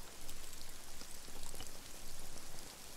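Steady rain patters down in a dense, hissing wash of drops, fairly close and continuous with no voices.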